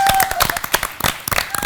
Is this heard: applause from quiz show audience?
yes